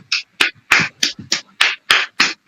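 A few sharp, evenly spaced claps ring out close and loud on an online business opportunity stage session, about nine distinct hits in quick rhythm with silence between them.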